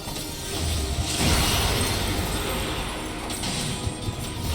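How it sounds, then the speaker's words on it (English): A broad shattering whoosh swells up after a second and settles into a sustained, crackling roar that slowly thins out, a boss's area-attack effect in Final Fantasy XIV. "now that's the sound of its AoE"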